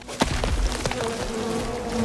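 Bees buzz in the island survival game Len's Island, a steady close drone that hums on for the full couple of seconds under a few brief clicks and thumps.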